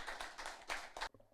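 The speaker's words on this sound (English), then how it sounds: "Please give him a round of applause" Applause at a Caribbean inter-secondary school debate semi-final: a brief burst of dense clapping from a small audience, fairly faint, ending abruptly after about a second.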